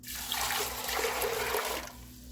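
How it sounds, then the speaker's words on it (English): Water pours steadily into a pot of rinsed dried beans, 2 quarts for home-canned baked beans, a close, continuous rushing stream lasting about two seconds before cutting off, with a low electrical hum underneath and no talking. "Drop them in the pot, and then you're going to add your water."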